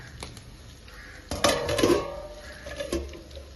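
A pot of rice on the stove gets a quick stir, then a metal lid clatters down over it. Sharp, close clanks of pots and cutlery stand alone against a quiet kitchen, with no talk.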